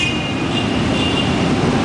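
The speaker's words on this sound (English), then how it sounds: "This is like a whole gang of motorcycles just going down the street here on University Avenue." A long procession of motorcycles rolls down University Avenue in Montreal, a steady, dense engine roar with no gaps, loud and continuous throughout.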